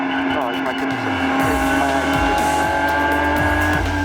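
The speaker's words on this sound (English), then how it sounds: "The car's been driven hard and fast for a long time." The Aston Martin Vulcan, an 820bhp hypercar, is driven flat out on track. Its engine roars loudly and continuously, with repeated rising and falling pitch sweeps as it shifts and lifts.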